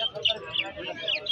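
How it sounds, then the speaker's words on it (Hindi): Ring-necked parakeets chirp at a bird market, short high bright calls repeating close by over a brief stretch with a busy background. "यहाँ पे कुछ रिंग नेक है और एक एग्जीबिशन का पेयर"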